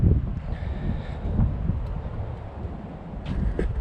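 Morning wind buffets the microphone at an outdoor artesian hot spring bath in the South Australian bush, a continuous low rumbling roar that swells and eases with a few gusts.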